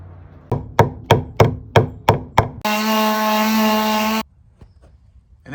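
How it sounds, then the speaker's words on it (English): Wooden dowels hammered into holes in a live oak tabletop, seven evenly spaced sharp knocks, then a steady whining power sander runs for about two seconds and stops. "I'm going to fill those holes with these dowels like that and sand them down."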